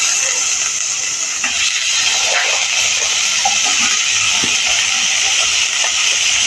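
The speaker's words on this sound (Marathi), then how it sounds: "आता ह्याच्यावर मी डाळिंब्या घालणार आहे. डाळिंब्या घालते." Field beans (dalimbya) tipped into sautéed spices in a hot pan give a loud, steady sizzle and hiss that holds for several seconds, with faint scrapes of stirring over it.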